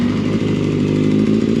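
An engine on its first startup with a check engine light on, already running as a loud, steady mid-pitched idle with a firm, regular pulsing rhythm and no talk over it.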